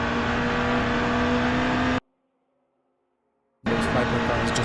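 Hypercar engines in a McLaren virtual endurance racing game give a loud, steady droning whine that cuts out abruptly to silence for about a second and a half, then resumes at full volume.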